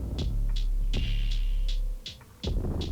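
A half-timed drum pattern in a beat, processed with Gross Beat and heavy glitch effects: slow, heavy kicks with deep bass and spaced bright hits, loud and steady, briefly dropping out near the end before returning.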